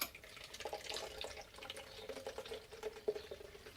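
Wort running from a mash tun into a jug while brewing a chocolate milk stout, a faint, steady trickle and splash of liquid with small irregular drips, quiet and close.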